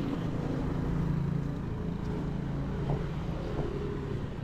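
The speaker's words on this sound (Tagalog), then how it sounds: "Ngayon, ang ingay ng kalsada." Busy city road traffic with cars passing, a constant low engine rumble and hiss that swells as vehicles go by, steady throughout with no talking.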